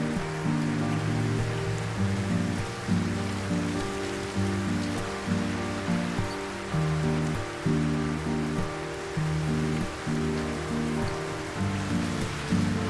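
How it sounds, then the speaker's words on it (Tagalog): Steady rain falls with a continuous, even hiss of drops on surfaces, mixed with a soft, sustained tonal background of music. "Nagpapatila pa nga ako ng ulan eh."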